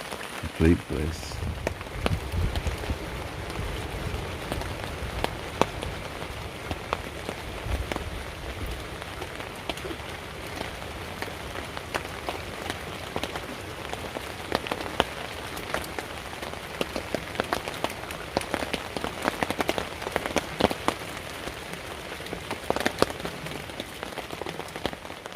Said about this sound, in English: It's about 1 o'clock in the morning now, and it's just started raining.